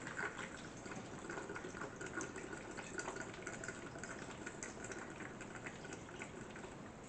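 Filtered water pours into a jar of sliced pears for pear vinegar, a faint, steady trickle and fill sound lasting several seconds without talk.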